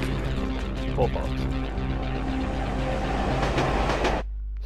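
A subway train in The Warriors game rumbles along with a heavy low drone and clattering, while voices speak over it before the noise cuts off near the end.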